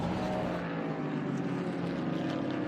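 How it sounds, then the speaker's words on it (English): Big American V8 race cars at Mid-Ohio, among them a little red Corvette, give a dense, continuous engine roar at steady loudness, with no voices over it. "Listen to the sounds of these big American V8s."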